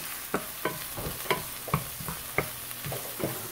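Garlic and ginger sizzle in hot oil while being stir-fried for chicken fried rice, a soft steady frying hiss punctuated by regular scraping and tapping strokes of a utensil against the pan.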